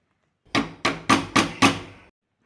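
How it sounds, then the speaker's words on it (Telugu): Five firm thuds in a steady rhythm, close and distinct, as pressure-cooked lentils with fenugreek leaves are mashed soft. "పప్పును మెత్తగా స్మాష్ చేసుకోవాలండి"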